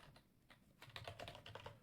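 Rapid keystrokes on a computer keyboard while entering code, a quiet scattered burst that grows into a denser run of close clicks with no talking.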